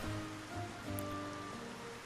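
Steady rain hisses in the video game Xenoblade Chronicles, a continuous wash of falling water under soft, sustained musical tones.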